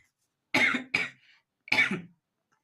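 Two quick coughs in a row, then a pause and a third cough, close and fairly loud against silence.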